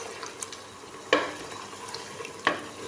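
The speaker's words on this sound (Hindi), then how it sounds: "1 से 2 मिनट इनको पकाएंगे टमाटरों को।" Tomatoes cooking in a pan for haleem, with a steady low sizzle beneath two sharp clinks of a spoon against the pan, close by and with no talk.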